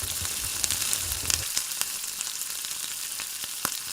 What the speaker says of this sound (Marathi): जिरे मोहरी चांगले फुललेले आहेत, लगेचच कांदा टाकून घेऊ।